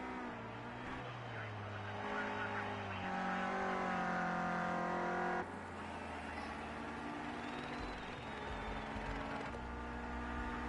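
A Renault Clio Cup race car runs at the Red Bull Ring, its engine note holding steady and then rising as it drives past, sustained and fairly close, with shifting pitch and no voices.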